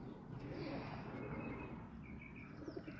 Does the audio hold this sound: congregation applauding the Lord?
no